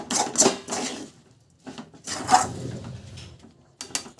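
Sesame seeds being stirred into jaggery for til chikki, giving soft scraping and rasping bursts against a pan or bowl, several irregular strokes with quiet pauses between them, close by and fairly clear.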